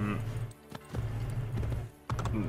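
Horse hooves clip-clopping in Assassin's Creed Brotherhood, a steady run of hoofbeats under a voice talking over the gameplay.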